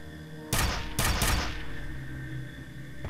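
Three quick gunshot bursts ring out in the F.E.A.R. video game, loud and close over a steady low game hum, then the ambience carries on alone.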